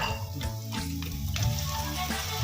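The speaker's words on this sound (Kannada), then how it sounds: "ನೋಡಿ ಎಲ್ಲ ಕೆಸುವಿನ ದಂಡನ್ನು ಹಾಕಿ ಚೆನ್ನಾಗಿ ಅದನ್ನು ಮಿಕ್ಸ್ ಮಾಡಿ" Taro stems being stirred in a frying pan, with a steady soft sizzle and scraping, close and fairly quiet, without voices.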